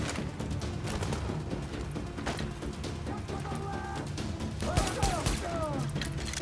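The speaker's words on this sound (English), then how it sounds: "That is absolutely a sniper." Gunfire in the video game Tom Clancy's The Division, a dense run of sharp shots and bursts over a constant background, with a few ringing, whining tones near the end.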